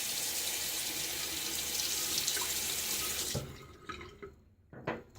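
Tap water runs into a sink for rinsing while shaving, a close steady splashing stream for about three seconds before shutting off, followed by faint drips and small handling sounds.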